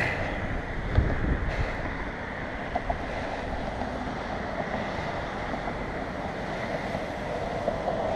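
Wind rushing steadily over a microphone during a bicycle ride through a suburban neighborhood, a broad continuous roar with occasional low buffeting thumps and no talking.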